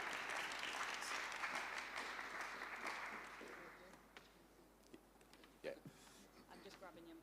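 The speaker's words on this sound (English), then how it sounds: "If we can have a round of applause, yeah?" An audience applauds as a speaker is invited up at a talk session, the clapping loud at first and thinning into scattered claps, with a few knocks and handling sounds after it fades.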